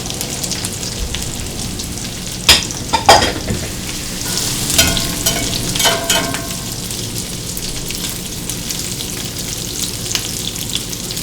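Chopped pizza frying in a hot skillet, a continuous close sizzle with a few sharp clatters and scrapes as pieces are moved around.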